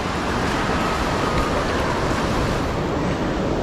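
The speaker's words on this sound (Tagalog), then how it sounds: "Hindi na tayo marinig kasi lakas ang agos sa tubig" A strong river current rushes with a loud, constant roar of churning water, broadband and unbroken, heard up close and drowning out everything else.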